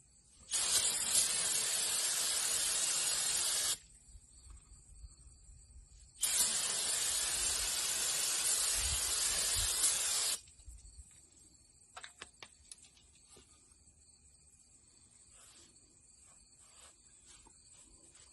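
Brake cleaner sprays from an aerosol can onto a hose in two loud, steady hissing bursts of about three and four seconds, with quiet handling noises afterward.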